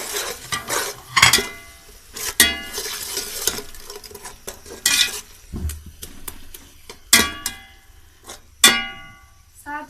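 Spices being stirred into a pot of rice pulao with peas and dal, heard as intermittent metallic scrapes and clinks of a spoon against the pot, with faint voices in the background.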